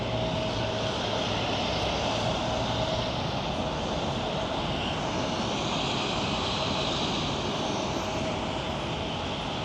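Jet airplanes taking off at Los Angeles LAX airport, heard as a steady, faint, distant engine roar that holds through the whole stretch without talk.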